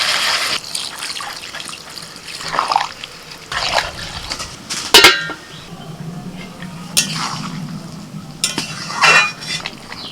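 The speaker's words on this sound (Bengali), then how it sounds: "আমি পনির ভেজানোর জলটা প্রথমে দিয়ে দিচ্ছি" Paneer soaking water is poured into spiced, sautéed vegetables in a cooking pan, giving splashy liquid bursts with clinks and scraping of a utensil against the pan, fairly close and without talk.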